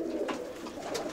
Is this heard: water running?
no